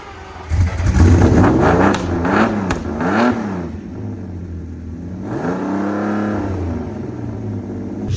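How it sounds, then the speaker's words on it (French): A Lamborghini Countach engine fires up and revs hard several times, the pitch climbing and falling, then settles into a loud, throaty idle, at a concours d'elegance. "la Countach qui a démarré"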